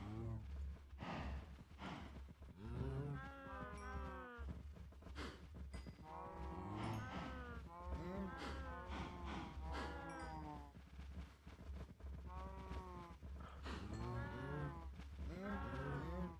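Cows mooing in a cow pit in Minecraft: repeated drawn-out moos from several animals that overlap and follow one another steadily at moderate volume, with no talking over them.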